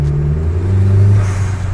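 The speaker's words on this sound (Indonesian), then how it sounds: "itu dia rasanya mesin 1300 cc Avanza dengan turbocharger dan tenaga hampir 200 horsepower" Turbocharged 1300 cc Toyota Avanza with a 4-speed gearbox and nearly 200 horsepower revving inside a tunnel, a loud, close, booming engine note rising and holding before easing, with no talk.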